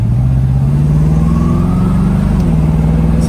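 A 1969 Mercury Cougar convertible engine hums steadily while driving, a close, continuous mid-pitched drone that rises slightly in pitch, then settles with a small dip near the end.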